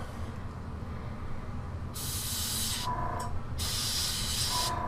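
An airbrush sprays paint onto Rune Wars Reanimate Archer miniatures. Two separate bursts of sharp hissing rise over a low background hum, one longer and one shorter, with a brief pause between them.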